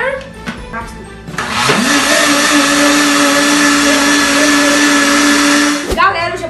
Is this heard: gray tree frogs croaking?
no